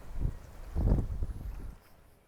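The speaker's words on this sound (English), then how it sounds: "It's still a little windy." Low, gusty wind rumbles across an open campsite by a beach near Whitecourt, Alberta, with a couple of stronger buffets before it eases off toward the end.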